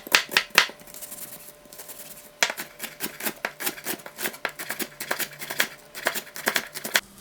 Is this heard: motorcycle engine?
no